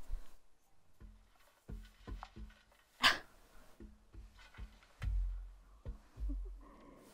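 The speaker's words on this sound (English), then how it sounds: "Whoever's dog is outside, will you please shut up?" A dog barks outdoors in short, separate barks spread across the stretch, with faint breathing and whimpering noises between them, and no talk over it.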